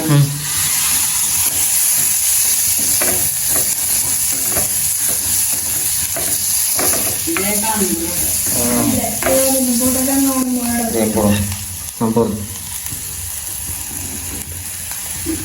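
Masala spices stir-frying in a pan in a home kitchen, a steady sizzle and hiss with scraping stirs throughout, while a person speaks over the frying in the middle stretch.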